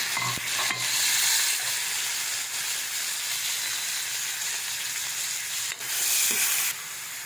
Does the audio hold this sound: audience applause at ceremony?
no